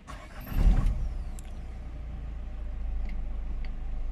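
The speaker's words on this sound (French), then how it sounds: "si j'arrête le moteur et que je redémarre" A Peugeot or Citroën car with an ESP/ABS fault warning has its engine restarted: a short starter crank and catch, then a low steady idle rumble that holds and grows slightly louder, with no voices.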